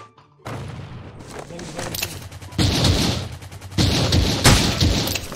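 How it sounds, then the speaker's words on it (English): Gunfire in a multiplayer video game, dense bursts of automatic shots and booms with players talking over it. "there's someone shooting us with a"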